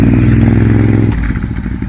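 A 2021 Kawasaki Ninja ZX10R with an Arrow dual exhaust runs close and loud, a steady throbbing engine note that drops abruptly partway through into rougher, choppier pulses.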